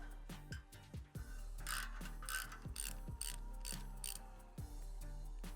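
A ratchet wrench backs exhaust nuts off the cylinder head studs of a Harley-Davidson, giving crisp, close clicking bursts in a quick, regular rhythm of repeated strokes, with no talk.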